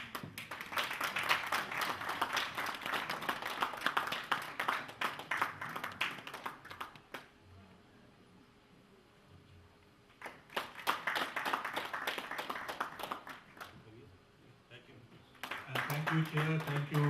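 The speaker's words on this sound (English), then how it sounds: "I think we can have some claps." An audience at a formal conference session claps in two rounds of scattered, crowded hand claps, separated by a quieter stretch, with a voice talking at times.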